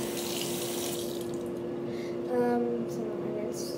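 Water runs from a sink tap during a morning routine, a steady close hiss of flow with a brief louder splash partway through, no talking.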